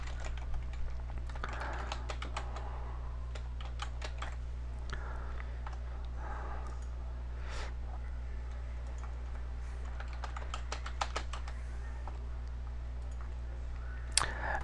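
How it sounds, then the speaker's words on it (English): A username and password being typed on a computer keyboard at a login screen: steady runs of close key clicks with short pauses over a constant low electrical hum, no talking. "You type in your username and password."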